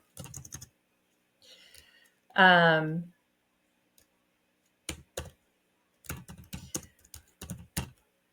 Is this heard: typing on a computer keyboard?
yes